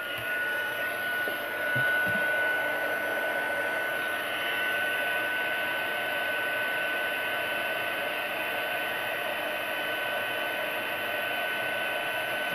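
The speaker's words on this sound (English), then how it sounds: "we'll grab the embossing heat gun again" An embossing heat gun blowing during card stamping, a steady, loud, close airy whoosh with a faint high whine that runs unbroken throughout, apart from a couple of small knocks near the start.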